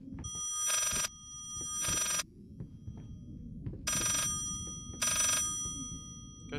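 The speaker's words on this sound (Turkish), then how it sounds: "Telefon çalmıyor mu ya?" Repeated bursts of a telephone bell ringing inside the psychological horror game Layers of Fear, four rings in a steady rhythm with pauses between, loud and close over a low murky ambient background.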